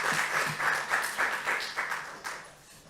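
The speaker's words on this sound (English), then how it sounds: "Please, a round of applause for Madam Chairperson." Applause from a workshop audience in Ghana greeting the chairperson, a short burst of rhythmic clapping that stays fairly even and then fades out near the end.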